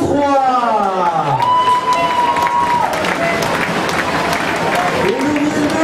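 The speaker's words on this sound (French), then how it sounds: "vous pouvez applaudir l'Estec de Troyes." Crowd applause for the ESTAC Troyes football players at a club ceremony, continuous clapping under a loudspeaker voice and tonal sounds that dominate the foreground.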